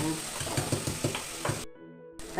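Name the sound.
onions sizzling while sautéing in a pan for egg curry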